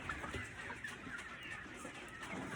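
Chickens in a backyard pen make soft clucks and murmurs that blend into a busy, noisy background, close by and fairly steady throughout.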